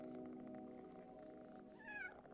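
Cats in the video game PowerWash Simulator 2 give a short, rising meow near the end, heard faintly over a steady bed of game music.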